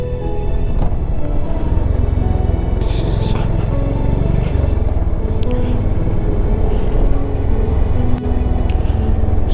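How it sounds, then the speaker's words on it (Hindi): Motorcycle ridden slowly over a rough mountain road between Kapkot and Birthi, a loud continuous low engine rumble buffeted by heavy wind noise, with occasional knocks and rattles from the rough surface. "बहुत स्लो चला रहा हूँ मैं, ताकि गाड़ी जो है वो कंट्रोल में रहे"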